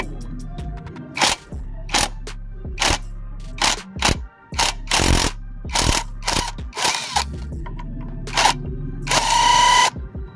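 A wrench with a ratcheting action works a nut on the wheel of a two-shock scooter with a flat tire, giving repeated close, loud metallic clicks and bursts in uneven spurts, with no talk.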